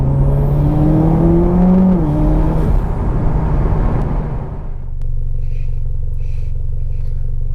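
Mitsubishi Evo X with about 400 whp, engine warming up while driving, a loud rumbling drone that rises through the gears, then settles into a quieter steady hum near the end.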